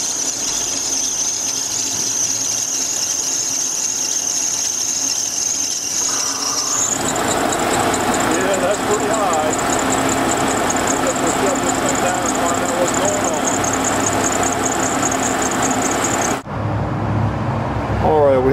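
A 1995 Ford F150 engine runs at a high idle after a valve is reconnected, a steady loud drone with a sharp whine that climbs as the revs settle higher, and a voice is heard over it.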